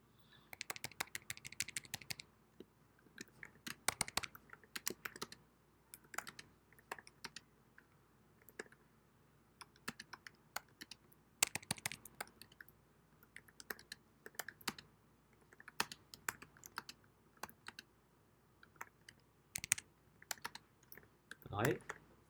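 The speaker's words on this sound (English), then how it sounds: "so I'll just type something." A computer keyboard is typed on in scattered bursts of clicks across a quiet room during a live class session, with pauses between runs and occasional soft sounds of a person nearby.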